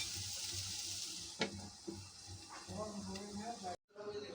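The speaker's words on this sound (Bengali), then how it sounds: "করলা ভাজি হতে থাক।" Bitter gourd (karela) fries in a pan with a steady sizzle, broken by a few utensil scrapes and clicks, before the sound cuts out briefly near the end; voices murmur faintly underneath.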